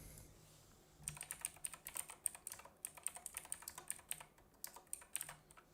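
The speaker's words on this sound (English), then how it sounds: "Keyboard's so loud." A computer keyboard clatters in rapid, irregular bursts of clicky keystrokes at close range, loud and steady for several seconds with short pauses between runs of typing.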